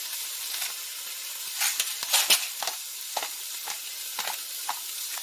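Chicken fideo pasta fries in a skillet with a steady, close sizzle and hiss, broken by scattered scraping stirs.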